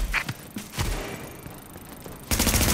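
Gunfire in The Division: a few sharp thumping shots early, a quieter lull, then a dense, loud burst of rapid automatic fire at the end.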